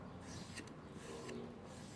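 Sealer being rubbed and polished into a wooden part by hand, a quiet, continuous soft rasping friction with a few slightly brighter strokes.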